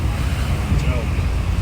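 Wind blows steadily at an outdoor fishing spot, a constant low rushing buffet across the microphone with a faint watery wash beneath, loud and unbroken throughout.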